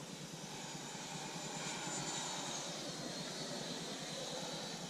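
A Freewing F-22 Raptor RC jet with a 90mm electric ducted fan flying at about half throttle, a steady broadband whoosh and whine held at even loudness with no talk over it.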